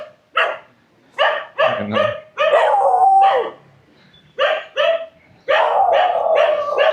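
Several dogs near a beach in Sanur bark and howl loudly in bursts, with yips and a drawn-out howl, close by, with a single brief spoken word.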